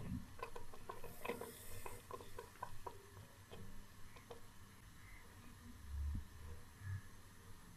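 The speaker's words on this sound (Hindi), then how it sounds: "अब मुसलसल इसमें चम्मच चलाते रहेंगे ताकि ये नीचे ना लगे।" A spoon stirs thickening rice kheer in a pot, giving quiet, irregular clicks and scrapes against the metal over a low simmer, with a couple of soft thuds near the end.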